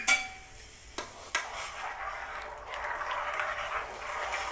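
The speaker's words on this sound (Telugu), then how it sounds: "మరుగుతున్నటువంటి నీటిలో వేసి కలుపుకోవాలి" A spoon scrapes and stirs seeds through a pot of boiling water, with a couple of sharp clinks against the side, close up and steady.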